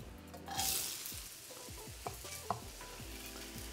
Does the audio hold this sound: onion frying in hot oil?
yes